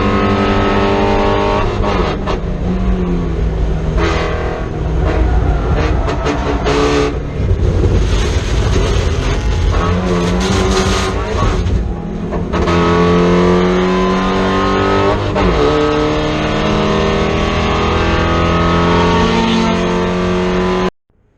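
A Mazda Miata race car's engine roars loudly on track, rising and falling with throttle input and gear changes, with a harsh, raspy exhaust note close and continuous throughout.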